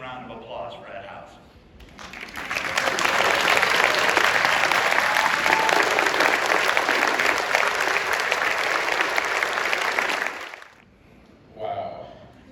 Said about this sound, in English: then I'll ask for a big round of applause for Ed Howes.